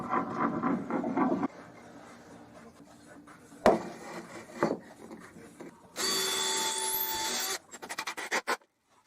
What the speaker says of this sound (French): je vais simplement gratter l'ancienne finition de cette planche afin que la colle adhère correctement